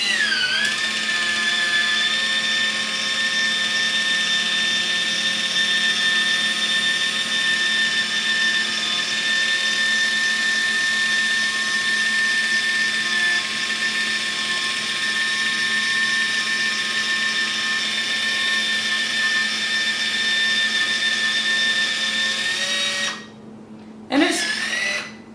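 An electric can opener runs continuously, its wheel cutting around the lid of a can in a steady, loud motor whine with a high tonal hum for over twenty seconds, then it cuts off and clicks as it backs away.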